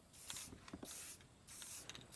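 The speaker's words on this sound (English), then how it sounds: "I had a little spray paint left over" Leftover spray paint hissing from an aerosol can as an arch line is painted over a hanging chain on a stone milk house wall, with several short bursts and clicks of the can's nozzle, faint and close.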